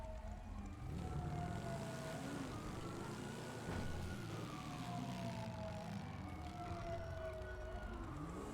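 Police siren in a video game, with rising and falling wails layered under a low rumbling engine drone, continuous and fairly near throughout.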